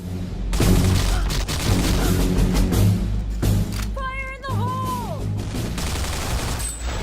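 Gunfire fills a Counter-Strike 1.5 match, with dense, rapid bursts of shots throughout and a brief tonal in-game sound in the middle.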